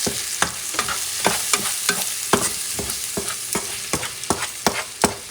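Pork chop fricassee stirred in a pan, a spoon scraping in quick irregular strokes over a steady background sizzle, close and fairly loud, with no voices.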